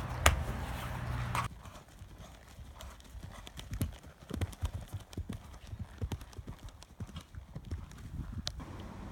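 A show jumping horse's hooves clip-clop in a quick, uneven rhythm, close and fairly soft, after a louder rustling opening.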